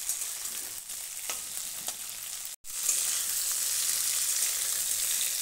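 Yardlong beans fry in hot oil, giving a steady bright sizzle that runs throughout with a few soft stirring touches and a brief cut in the middle.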